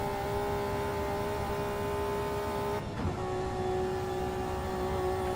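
A BMW race car at top speed on the Nurburgring endurance circuit, a steady loud engine drone with a brief dip and change in tone as it shifts into sixth gear, then holds on at speed.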